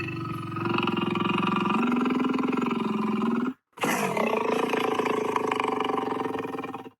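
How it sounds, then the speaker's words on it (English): A lion's deep roar plays back from a recording, loud and sustained for several seconds, breaking off briefly before a second rough, rumbling roar follows. "That was definitely a lion's roar."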